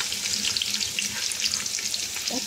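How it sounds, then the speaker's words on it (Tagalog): Garlic, onion and ginger sautéing in hot oil produce a steady, close, crackling sizzle with soft spattering throughout and no talking. "Ready na ang ating mantika. Ready na rin ang aking sandok. Ayan. Maggisa na tayo."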